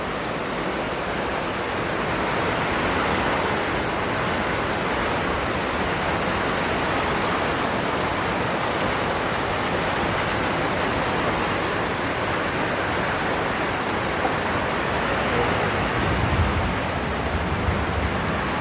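Heavy rain pours over a flooded river in Montalban, Rizal, a dense, steady hiss of rainfall and rushing water that stays loud and unbroken throughout, with no voices.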